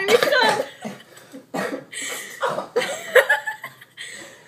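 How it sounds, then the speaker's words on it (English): Several bursts of coughing close by, rough and uneven, mixed with what sounds like laughing, spread across a few seconds. "She's coughing very angrily at me."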